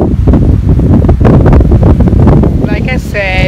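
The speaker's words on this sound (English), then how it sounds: "As you see, it's very windy." Strong wind buffets the microphone outdoors under a gray sky before rain, a loud continuous roar with gusts, while someone talks over it and a brief high chirping tone appears near the end.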